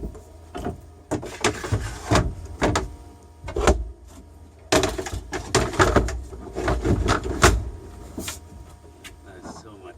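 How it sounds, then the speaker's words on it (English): Wooden companionway hatch doors are slid into place on a Siren 17 sailboat, giving repeated sharp knocks and scraping thuds in irregular bursts, close by, with some talking in the background. "Let's put the doors on and see what they look like."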